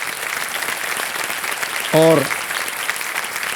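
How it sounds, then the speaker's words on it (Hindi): A studio audience on the Kaun Banega Crorepati game show claps in sustained, dense applause, loud and close throughout, with a brief spoken word partway through. "तालियां बज जाए इनके लिए"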